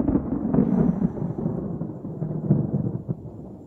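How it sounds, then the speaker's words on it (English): Thunder following a lightning bolt outdoors during a storm, a sustained deep rumble rolling for several seconds, loud and close, tapering slightly toward the end. "this is gonna be really loud thunder there in just a second"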